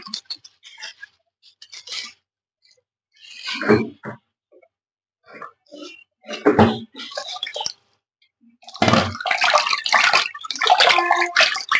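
Raw chicken is rinsed by hand in water, giving intermittent splashing, sloshing and dripping bursts, close and fairly loud, with pauses between handfuls and a longer run of washing near the end.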